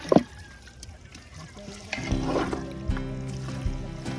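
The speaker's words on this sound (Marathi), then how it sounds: "थोडंसं पाणी टाकलंय नाहीतर ते सुकं होईल" Water poured into village-style mutton curry cooking on a wood-fired clay stove outdoors on a farm, a soft trickling splash building after a brief knock, then a steady pour with a low rumble underneath.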